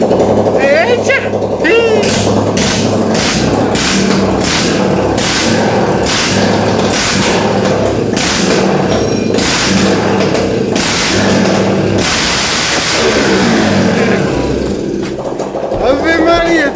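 A Honda Pop 110 motorcycle that had sat unused for three weeks cranks, catches and revs, a loud, continuous rough engine roar with thumps, while people talk over it throughout.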